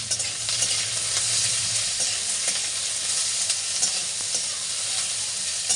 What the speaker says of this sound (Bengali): দেখো এখানে পেঁয়াজটাকে খুব ভালোভাবে ভেজে নেবো, একদম লাল লাল করে।